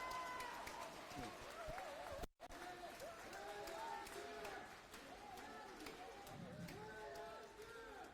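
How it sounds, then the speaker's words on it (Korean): Crowd applause at a political event for a lawmaker making her first public appearance after an attack, a continuous dense clapping that runs throughout, with a brief dropout and voices mixed in. "박수 한번더 쳐주시죠."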